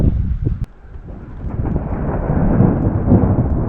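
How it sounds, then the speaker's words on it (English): Thunder rumbles loud and close during a lightning storm on a homestead, a long continuous roar over steady rain with a sharp crack near the start. "I just saw a lightning bolt right there"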